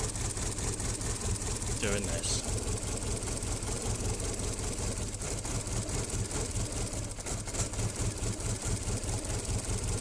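A Renault Twingo engine idles quietly and steadily, with a slight wobble in its running, while a voice briefly speaks over it.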